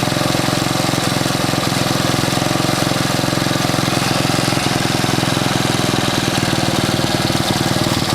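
A 1964 Honda S90 motorcycle engine with its timing off idles with a rapid, slightly uneven chugging putter, loud and close, running steadily throughout without voices.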